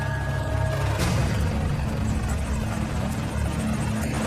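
A helicopter's steady rotor thrum and engine whine fill the air over Antarctic waters during a test flight after damage, loud and continuous, with a brief sharper burst early on.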